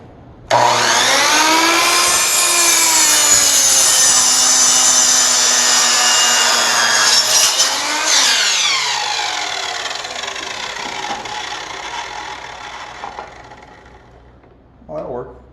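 A Harbor Freight saw cutting wood at 90 degrees in a shop: a loud whining motor spins up, holds a steady drone while a voice talks over it, then winds down, and a short burst follows near the end.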